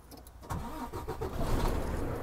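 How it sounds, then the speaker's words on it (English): A truck engine cranks and fires up, then settles into a loud, rough, close idle rumble. "and I'm going to start my truck here."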